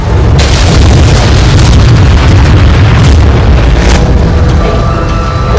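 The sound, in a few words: Buncefield fuel depot vapour cloud explosion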